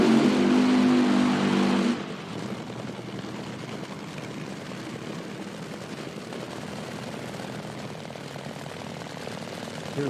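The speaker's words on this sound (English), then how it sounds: "Hear the throttle hanging up a little bit after the burnout there on McNeil's car" Nitro drag racing car at an IHRA Outlaw Nitro event at Virginia Motorsports Park, its engine loud and roaring after a burnout with the throttle hanging up, dropping after two seconds to a steady lower rumble.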